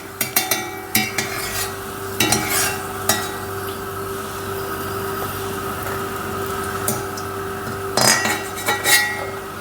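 A spoon scrapes and clinks against a pan in several short bursts, over a soft, continuous sizzle of raisins frying in oil.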